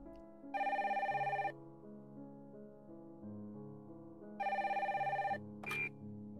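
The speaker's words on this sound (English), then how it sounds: "Then the phone rings." A telephone bell rings in two loud, steady bursts, a short pause between them, over a soft background music bed with no voices.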